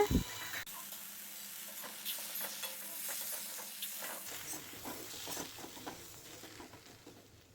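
Egg kothu parotta with parotta salna is stirred in a hot pan, giving soft scraping and a low continuous sizzle, fairly faint and close, with no voice.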